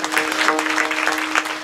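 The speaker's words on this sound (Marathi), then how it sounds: "जोरात टाळी वाजवा एकदा." Loud, close audience clapping during a Marathi kirtan, brisk and dense, with a sustained harmonium-like tone running beneath the claps.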